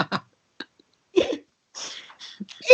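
A voice imitates a fart with a string of short, squeaky, puffing bursts separated by pauses, ending in a louder, higher squeal, close and dry.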